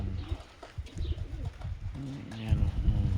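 Homing pigeon breeders coo repeatedly in soft throaty bursts close by, with someone talking over and between the calls.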